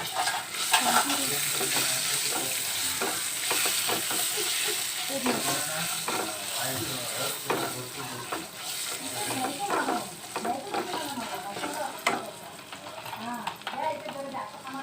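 Curry leaves hiss and crackle in hot oil for a Konkani lemon rice, with a loud, continuous sizzle and the scrape and clink of stirring in the pan while a voice speaks over it.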